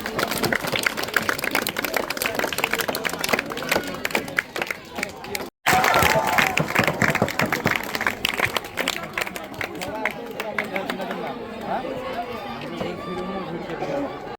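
Applause at a school award ceremony honoring top students: a dense patter of many hands clapping, mixed with crowd chatter and hubbub, briefly cutting out midway before continuing at a slightly lower level.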